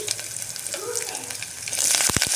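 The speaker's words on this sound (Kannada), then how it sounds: "ಈಗೊಂದು ಇದಕ್ಕೊಂದು ಒಗ್ಗರಣೆ ಹಾಕೊಳ್ಳೋಣ ಅದಕ್ಕೆ ನಾನು ಫಸ್ಟ್ ಎಣ್ಣೆ ಹಾಕ್ಕೊಂಡಿದ್ದೀನಿ ಸಾಸಿವೆ ಜೀರಿಗೆ ಹಾಕ್ಕೊಂಡಿದ್ದೀನಿ" Mustard seeds and cumin tempering in hot oil with crushed garlic and asafoetida for a Kannada leafy-greens sambar, giving a soft steady sizzle that grows louder toward the end, with a few sharp pops and spatters.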